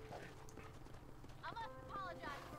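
Hoofbeats of a galloping horse in the Red Dead Redemption video game run as a steady rhythmic clatter beneath game sound effects and a voice.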